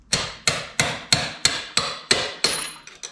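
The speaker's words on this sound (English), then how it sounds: "a couple light taps with a hammer, and that'll pop it right out" Eight sharp metallic hammer taps on a punch in an even rhythm, each ringing briefly before the next, close and fairly loud, followed by a couple of lighter knocks, on a Ducati Hypermotard 1100.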